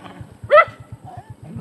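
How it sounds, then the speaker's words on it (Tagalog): Dogs at a house: one sharp, fairly close bark stands out over a steady, rhythmic low thumping in the background. "Maraming mga aso."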